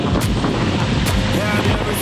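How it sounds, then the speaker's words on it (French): A fierce sandstorm wind in the Sahara near Merzouga buffets the microphone with loud, continuous roaring gusts and rumbling low thumps, constant and close. "Il y a une maxi tempête de sable"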